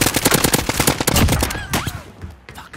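Rapid automatic gunfire in Call of Duty, dense bursts of loud close shots that thin out toward the end, with a few scattered distant pops.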